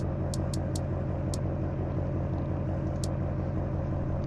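A white truck engine in a farming simulator game drones at a steady idle, a low, even rumble with a few short high ticks near the start and one later, no voices.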